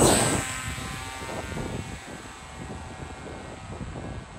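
A V-tail FPV aircraft with a 14-inch pusher prop launching outdoors, heard as a steady, fairly loud propeller and motor drone blended with wind buffeting on the microphone, with no one talking.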